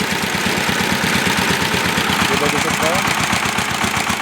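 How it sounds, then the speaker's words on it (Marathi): A small farm tractor engine idles steadily with a continuous low rumble and rhythmic knocking pulse, loud and close, while someone talks over it. "चालू झालेला आहे आणि चालू झाल्यानंतर रेस थोडी कमी करून घ्यायची आहे."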